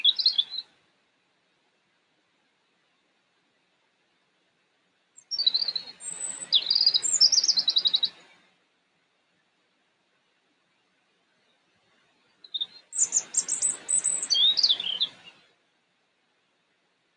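Birds sing around an outdoor spot in three separate bursts of high chirps and trills, fairly near and clear, with silence between phrases and no talk.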